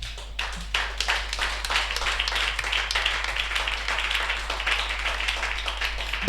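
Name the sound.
congregation clapping and applauding in church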